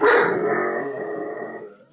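A dog lets out a single loud, close, drawn-out bark that trails off over about two seconds, with nothing else around it.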